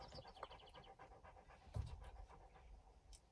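At a junkyard, a dog pants close by in quick, rhythmic breaths, with one louder thump partway through.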